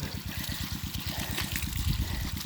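Water from a low-cost solar-powered pump, wired straight to the panel without a controller, streams out steadily onto a sweet grass plot for cattle, a continuous trickling and splashing pour with a pulsing low rumble underneath.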